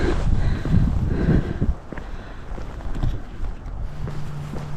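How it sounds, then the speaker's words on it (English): Strong wind gusting across a hiking trail, a loud, rough buffeting roar that swells and eases, with faint rustling beneath it and no talk. "Man, I wish the wind would calm down."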